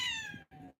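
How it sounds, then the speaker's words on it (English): A cat gives two close, loud meows in a row, the first long and falling, the second shorter after a brief silence. "and the cats are fighting"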